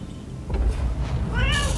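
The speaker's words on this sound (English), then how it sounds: "Here, kitty kitty." A cat meows near the microphone in a rising, wavering call over a low steady hum, briefly and moderately loud, with no speech.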